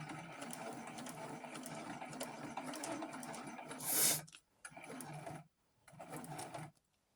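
A sewing machine stitches a clear-window water bottle bag in a steady whirring run, then stops and gives a few shorter bursts before going quiet.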